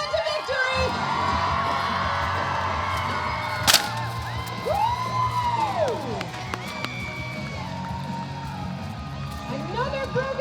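Spectators cheer, whoop and yell for armored knights jousting with lances at a medieval faire, a lively outdoor crowd holding steady with rising shouts and scattered claps.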